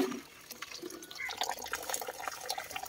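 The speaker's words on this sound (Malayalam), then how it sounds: "ഇത് വെള്ളം ഇത്ര വെള്ളം കിട്ടണം" Water splashing and trickling as it is poured into a cooking pot of rice for chicken biryani, a steady close running-water sound with small drip-like splashes throughout.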